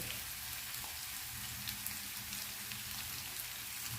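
Dried fish (shutki) frying in a pan, giving a steady dense sizzle and crackle that holds at an even level throughout with no voices.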